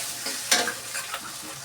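Spices fry in a pan in a short burst of sizzling, with a sharp scrape of a stir near the middle and a softer crackle afterward, close and without talk.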